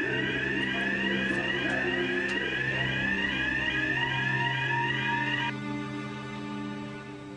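A fire alarm at a Merseyrail site sounds continuously and loudly as a steady electronic warble after being set. The tone shifts and softens slightly near the end, and no voices are heard.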